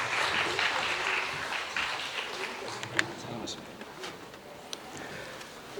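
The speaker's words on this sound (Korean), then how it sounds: "큰 박수로 환영해 주시기 바랍니다" An audience at a lecture welcomes Hanyang University professor Jeon Young-soo with applause, quiet and somewhat distant, strongest at first and then thinning out into scattered claps.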